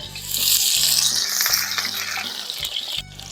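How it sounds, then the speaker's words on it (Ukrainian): Onions frying in a pan for shakshuka give a loud, steady sizzle with brief stirring scrapes and a short lull near the end; no one speaks. "Першим запускаємо цибульку і обсмажуємо її."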